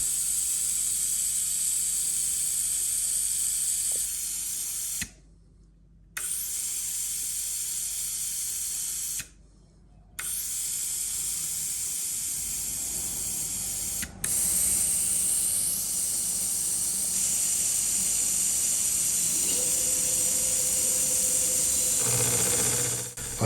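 An air and coolant mist spray system runs on a milling machine, giving a steady close hiss that stops twice for about a second each time, then carries on with faint mechanical ticks and a slight shift in tone.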